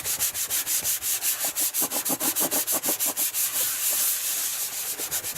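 A cloth is rubbed hard across the casing of a PS3 Slim in quick, rhythmic back-and-forth strokes, about four per second, close and steady, with no talking.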